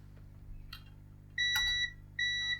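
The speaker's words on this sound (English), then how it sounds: "let's just check that with the old multimeter" Multimeter continuity beeps while probing a cheap Pac-Man toy's circuit, two steady high electronic tones each lasting about half a second, separated by a short gap, with faint clicks of probes before them.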